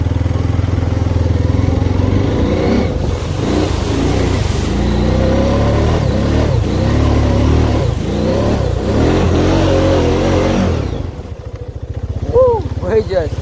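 A Honda ride-on machine revs hard and steadily while drifting, a loud close engine drone throughout, dropping off near the end as voices shout over it.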